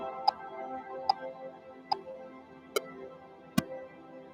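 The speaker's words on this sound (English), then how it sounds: "So there's 5 different clicks you can choose from." Five different metronome click sounds from the Prime app play one after another, each a single short tick with its own pitch and character, evenly spaced over a quiet backing hum.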